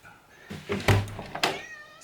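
A cat meows repeatedly outside a shut door, several loud, close calls at an uneven rhythm with no talk over them.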